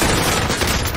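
Dense, continuous gunfire from the video game Call of Duty: Modern Warfare Warzone, a loud, steady fusillade of overlapping shots filling the whole short burst with no talk.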